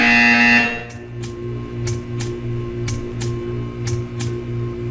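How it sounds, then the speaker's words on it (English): In Portal 2, a loud electronic buzzer signals a test subject to stare at art, then cuts off, leaving a low mechanical hum with a faint, regular pulsing pattern. "When you hear the buzzer, stare at the art."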